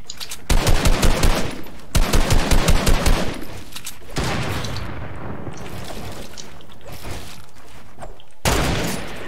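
Bursts of automatic gunfire in the Fortnite video game, two rapid rattling volleys early on followed by a dense stretch of continuous shooting and another burst at the end, loud and close with no talk.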